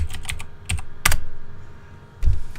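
Bursts of typing on a computer keyboard, short clusters of clicking keystrokes separated by pauses, close and fairly loud with no talking.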